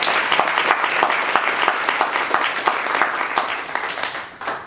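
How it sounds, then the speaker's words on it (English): A large audience breaks into sustained applause, dense overlapping claps holding strong before thinning and fading at the very end. "So round of applause"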